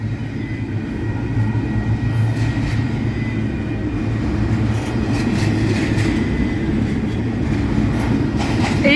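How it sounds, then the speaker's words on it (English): A train hauled by locomotives passes close by, loud and continuous, with a heavy rolling rumble, rhythmic wheel clatter and a brief metallic squeal near the end. No one speaks. "So this should be our train with our magical engines."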